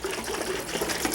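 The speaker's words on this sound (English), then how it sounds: "Shake this up" Garden soil and distilled water slosh inside a jar being shaken vigorously, producing a brief, loud, continuous churning of liquid up close.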